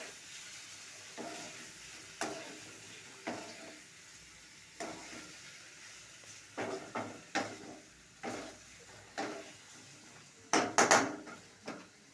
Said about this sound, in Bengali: আগে এরকম ভালো করে নাড়াবো, তারপর বাকি পাস্তাগুলো এইভাবে ছেড়ে দেবো।